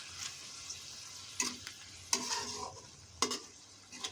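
Ginger garlic paste frying in a pan for restaurant-style chicken rezala, with a steady soft sizzle broken by three or four sharp scraping stirs of a spoon against the pan, close up and with no voices.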